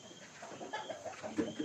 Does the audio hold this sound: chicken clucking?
yes